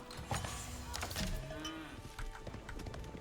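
Cattle arriving at a ranch in a real-time strategy game, with soft animal calls and hoof-like clip-clops over a busy layer of game effects and music, fairly steady throughout.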